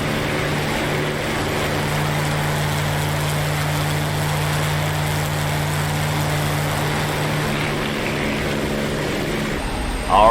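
A swarm of WW2-era propeller fighters drones steadily in a DCS flight-sim dogfight against a British strike force with B-17 bombers, a continuous near engine roar with a sustained low hum throughout.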